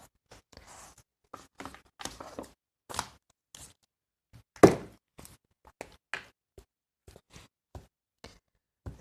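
Scissors trimming a piece off a papercraft butterfly, heard up close as a scattered series of short, crisp snips and taps with one louder clack in the middle, quiet pauses between them and no talking.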